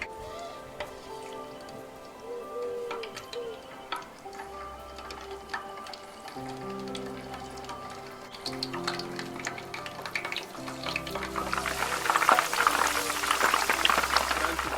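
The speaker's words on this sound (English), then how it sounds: "The oil is hot, guys. It's ready to fry the manok." Chicken (manok) frying in hot oil for Filipino fried chicken, a crackling sizzle that swells louder toward the end, with background music and other kitchen sounds running throughout.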